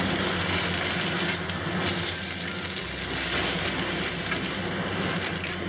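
Malabar spinach stir-fries with garlic and shrimp paste in a hot pan, giving a steady, close, even sizzle that runs without a break and with no voices.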